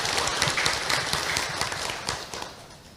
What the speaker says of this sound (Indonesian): boleh kita kasih tepuk tangan dulu buat Ibu Azria.